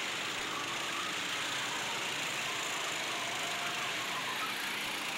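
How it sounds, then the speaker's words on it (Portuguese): A 6 HP racing kart engine working on a kart circuit, a continuous high buzzing drone that stays steady and fairly strong throughout, with no voices over it. "vai botando potência no seu kart de 6 MHP"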